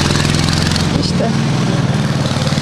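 A tractor engine runs in the rural village of İkizce, Ordu, a loud steady mechanical drone with rapid pulsing, heard up close with people talking over it.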